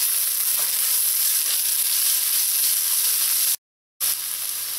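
Onions and hot pepper sizzle steadily in hot oil in a pan while cooking Trinidadian bhagi rice, a continuous close hiss broken by a brief silent gap near the end.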